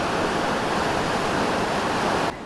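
Eighteen Foot Falls in Marinette County roars nearby, a loud, steady broadband rush of falling water that holds unbroken before dipping slightly at the very end.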